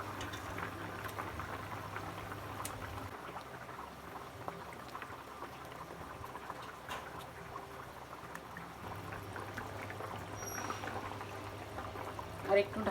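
Fish curry gravy bubbles in a covered pot as katla fish is cooked with potato and pointed gourd, a soft, steady boil that runs through the whole stretch at low level.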